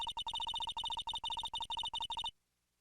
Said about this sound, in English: Let's just hit the redial button.